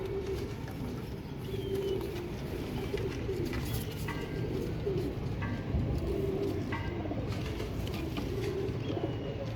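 Low pigeon cooing repeats over a constant rumbling background, with a few brief chirps and wing taps scattered through.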